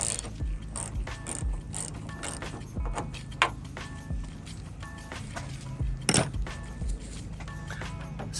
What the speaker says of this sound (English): you just got to remove this 5mm hex